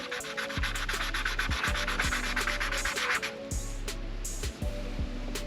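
A Brembo brake caliper is sanded by hand in quick, regular back-and-forth scratchy strokes, close and steady, with a faint low hum underneath.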